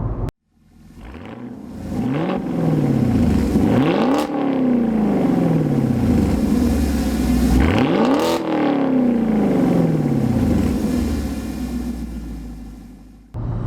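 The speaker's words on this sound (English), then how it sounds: "let's go ahead and toss in some exhaust clips so you guys can hear it for yourself" Chevrolet Camaro SS 1LE V8 exhaust revved hard several times, each rev swelling up and dropping back to a rumbling idle, loud and close, with a crackle on the throttle lifts.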